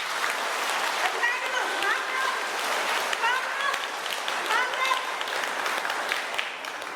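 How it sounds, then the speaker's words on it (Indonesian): An audience at the first regional assembly of the indigenous women's forum in Boven Digoel, Papua, claps in steady, sustained applause throughout, with voices rising over it. "Tepuk tangan."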